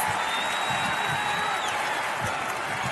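Fans at an Iowa vs Wisconsin Big Ten basketball game applaud an offensive rebound, a broad wash of arena clapping and crowd noise at moderate level, steady and sustained.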